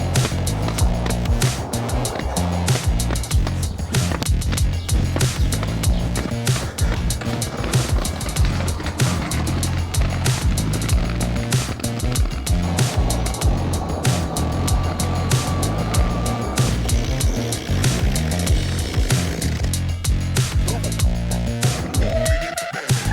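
Airtrick electric skates cruise around a beach with a continuous close rolling rumble and motor whine, steady and loud throughout, with bumpy clatter from the surface and no talking.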